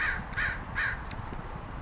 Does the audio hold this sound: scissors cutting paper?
no